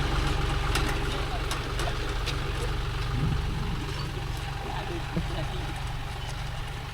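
A John Deere 5050D tractor engine idles and runs steadily in a groundnut field, a low continuous chugging rumble with faint background sounds and no clear talk over it.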